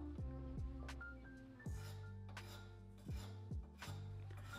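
A garden tool is clamped into a bench vise on a workbench, giving a few faint metallic clanks and clinks with a short scraping rub between them. No one speaks.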